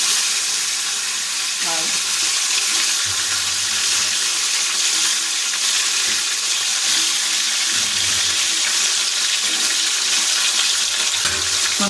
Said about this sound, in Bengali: এখন আমরা এই গরম তেলের উপরে লবণ মেখে রাখা কাতলা মাছের পিসগুলো আগে যোগ করে দিচ্ছি